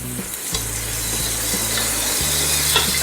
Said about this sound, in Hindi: इसमें 4 अदद प्याज हैं बारीक कटे हुए, ये डाल देंगे। अब इसको हल्का गुलाबी होने तक फ्राई करेंगे।